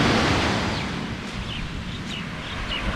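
Ocean waves crash on the shore at Al Bustan beach near Muscat, Oman, a loud, steady wash of surf with wind across the microphone and faint high chirps, with no voices.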